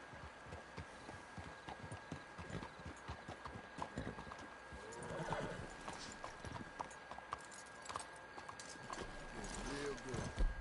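Horse hooves clip-clop steadily at a trot in the video game Red Dead Redemption 2, beneath a low ambient hum, with people talking over it.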